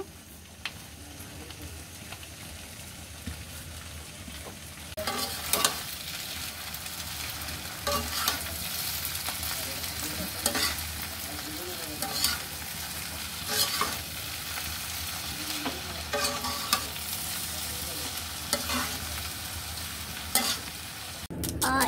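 Vegetable noodles with spices and coriander leaves stirred in a frying pan, a steady sizzle broken by repeated scraping strokes of the spatula, close and continuous after a quieter start.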